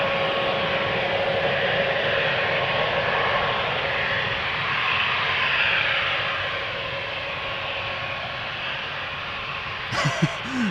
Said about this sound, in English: Embraer 190 to Bergen